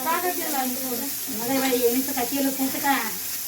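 Paneer frying in hot oil in a pan, a steady sizzle and hiss running throughout beneath people talking nearby.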